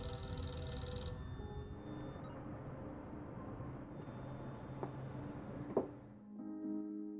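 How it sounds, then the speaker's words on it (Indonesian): A mobile phone rings nearby in a film scene, a bright electronic ring standing out over a dim background at the start. It fades into low ambient noise with a few sharp knocks later. "mereka mendengar suara telepon dari Maxi berada di dekat sana"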